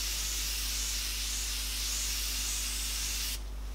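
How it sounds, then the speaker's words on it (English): Fine water mist from a facial spray bottle hisses in a steady, close, continuous spray for a few seconds before cutting off abruptly near the end. "But the spray is just divine."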